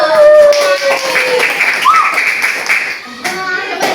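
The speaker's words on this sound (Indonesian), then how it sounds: "Semua tepuk tangan dulu." Students in a classroom clap together, quick bright claps in a short burst with children's voices and a sung or called tone over them, close and fairly loud.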